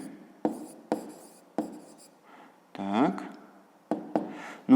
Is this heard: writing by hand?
yes